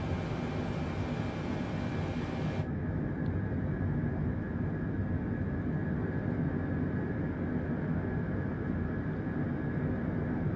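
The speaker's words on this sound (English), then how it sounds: "a little bit of engine power here, folks, to get us rolling" Broadband, steady roar of Lufthansa Boeing 747 jumbo jet engines spooling up for taxi in Microsoft Flight Simulator, continuous and loud throughout with no talk, the hiss thinning slightly after the opening seconds.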